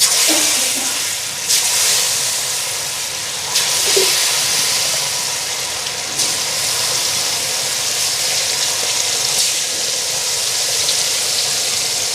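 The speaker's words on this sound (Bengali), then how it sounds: "এদিকে ভাজাটা বসাই দিলাম" Food sizzles in a frying pan in a home kitchen, with a steady, fairly loud hiss running the whole time and no talking.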